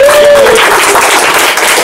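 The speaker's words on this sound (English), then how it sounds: "Can you clap for the team, please?" Loud, close applause from a meetup audience clapping for a team after a balloon tower game, dense continuous clapping throughout with some voices mixed in.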